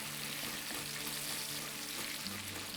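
Bacon crackles and sizzles in a hot pan as the fat renders, a steady close frying hiss with small pops throughout.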